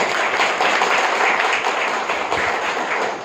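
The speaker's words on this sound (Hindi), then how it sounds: "तो बीच बीच में ताली बजा सकते हैं, थोड़ी बजाओ एक बार" An audience at a spiritual class in Arang, Chhattisgarh, claps together in a dense, steady burst of applause, close and fairly loud, holding at an even level throughout with no talk over it.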